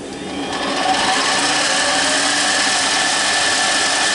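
Harbor Freight mini lathe gears whining, a steady high-pitched mechanical whine that rises in the first half second and then holds at an even, fairly loud level with no talking.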